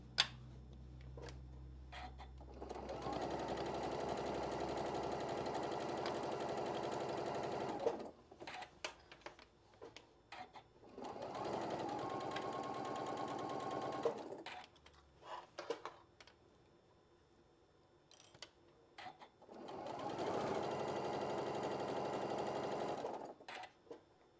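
A sewing machine stitches along the edge of a one-yard apron in three sustained runs of several seconds each, separated by short pauses with small clicks and handling noises, fairly close and steady with no talk.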